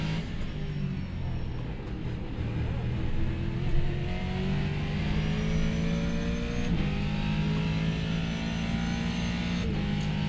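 A race car engine in a racing video game, a McLaren MP4-30 on the Nürburgring Nordschleife, drones steadily and loudly, rising and falling in pitch through gear shifts with brief revs, no voices present.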